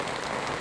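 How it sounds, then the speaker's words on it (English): Steady rain pours onto a campsite awning beside a lake in a provincial park, a dense, continuous patter with no pauses, close and fairly loud, with no voices over it. "And it's raining."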